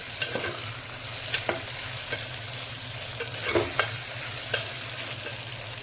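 Ivy gourd (tondli) with a dried red chilli sautés in a pan with a soft, continuous sizzle, broken by close spatula scrapes and clinks as it is stirred.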